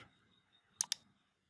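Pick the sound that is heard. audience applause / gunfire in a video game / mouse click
mouse click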